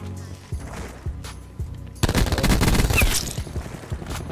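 Rapid automatic gunfire from Call of Duty Black Ops 4, starting with a few spaced single shots and then erupting into a loud, dense burst of sustained firing in the second half, with no talking.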